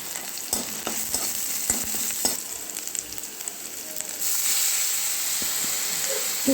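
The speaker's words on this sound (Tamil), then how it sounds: "இது லைட்டாக நான் ஃப்ரை பண்ணி லைட்டாக கொஞ்சம் நேரம் வேக வைக்கிறேன்" Vegetables sizzle and fry in a pan with garlic and raw turmeric, stirred now and then, giving a steady close hiss with soft scraping clicks throughout and no talking.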